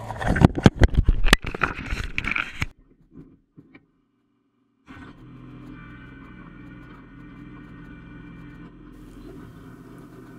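A Kubota G2160 diesel ride-on mower idles with a steady low engine hum after a burst of loud clattering scrapes and a near-silent gap, then holds a constant moderate drone to the end.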